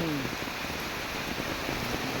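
Typhoon Enteng rain falls hard beside a flooded highway, a thick, unbroken hiss of heavy drops close at hand, with a voice talking faintly over it.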